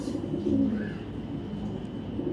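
A foreign-bloodline racing pigeon cooing softly up close, one low throaty coo over a steady background hum.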